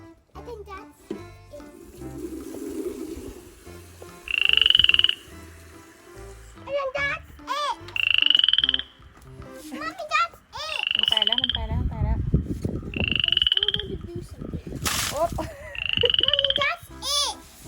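Repeated frog croaks, several loud rasping calls spaced a few seconds apart, with a child and an adult talking and splashing water in between.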